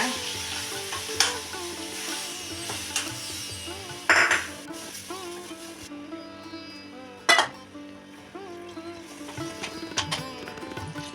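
Flour batter being stirred in a pot as milk goes in, with repeated spoon clinks and scrapes against the metal over a faint background hum.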